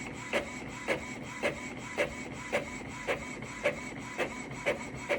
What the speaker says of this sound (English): It's printing out my new email address for my printer